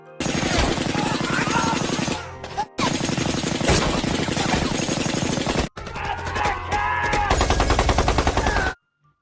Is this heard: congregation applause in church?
no